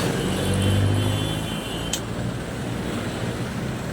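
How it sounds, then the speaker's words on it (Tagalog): Jeepneys pass along a dark roadside in the Philippines, with a nearby engine rumble that swells and then fades under continuous traffic noise. "puro jeep lang dumadaan guys"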